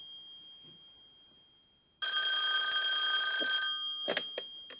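An old-style telephone bell rings loudly and continuously for about two seconds as a show intro, then breaks into a few shorter bursts after a quiet, faintly humming start.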